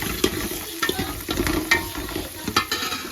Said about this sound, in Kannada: ನೀಟಾಗಿ ಫ್ರೈ ಮಾಡ್ಕೋಬೇಕು.